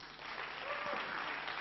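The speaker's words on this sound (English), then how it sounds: "A massive applause for Team Compass" Applause fills a short stretch at a business case competition as second-place Team Compass is honoured, a steady wash of many hands clapping through the whole moment at even loudness.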